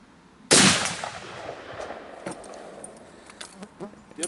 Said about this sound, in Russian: Правый ствол, пуля Полева, тройка.